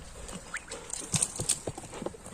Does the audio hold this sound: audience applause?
no